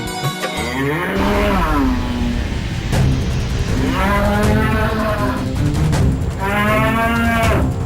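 A calf on a dairy farm lows in three long, loud moos, each drawn out and rising then falling, with short pauses between them and no talking.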